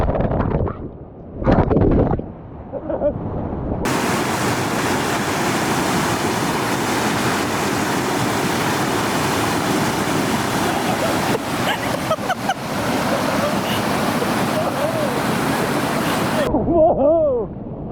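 Rushing water roars loud and continuous while someone rides down a waterfall, preceded by a few brief bumps and knocks.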